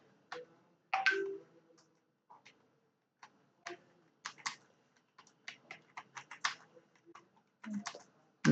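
Computer keyboard typing, close and clear, in scattered clusters of key clicks separated by brief silences.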